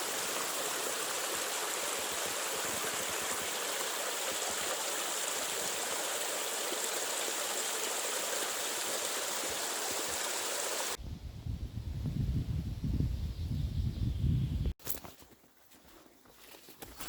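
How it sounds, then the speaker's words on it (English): Clear spring water streams steadily in a pine forest near the remains of an old water mill, a close, continuous rushing that drops away suddenly to a quieter, lower murmur with wind toward the end. "A spring with a clean water, the remains of a water mill"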